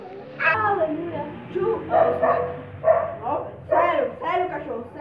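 A dog barks and yips in a rapid, uneven series of loud, close barks, some drawn out into whiny howls, continuing through the whole stretch with little pause.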